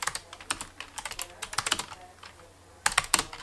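Fingers tap quickly on a soft-touch computer keyboard with backlit caps lock and number lock lights, giving crisp, close keystrokes in uneven bursts with brief pauses.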